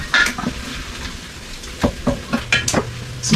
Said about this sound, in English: and then we'll kind of stir that in